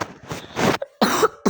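A person coughs in a quick run of harsh, close bursts, then pauses briefly before a second loud round of coughing.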